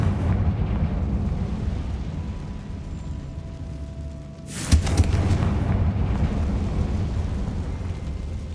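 A Confringo blasting spell explodes in a Harry Potter video game, one sharp, loud burst about midway over a constant low ambient rumble.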